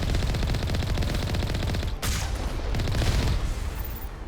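Rapid, continuous gunfire in the Mass Effect game, loud rattling bursts from long-range guns with a brief pause midway before the shooting resumes.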